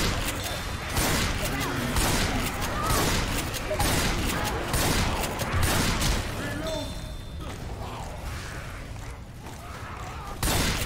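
Shotgun blasts boom repeatedly during a Star Wars video game firefight, dense bursts of loud gunfire and impacts stacking in quick succession, with players talking over the noise throughout.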